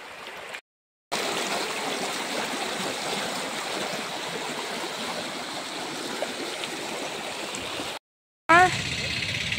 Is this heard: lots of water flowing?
yes